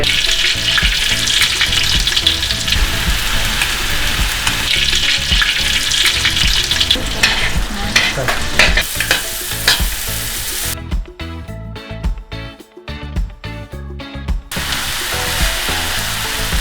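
Pad Thai stir-fries in a hot pan, loud and close. Busy, continuous frying hiss mixes with stirring and scraping, and there is a short quieter break near the end before the sizzle picks up again.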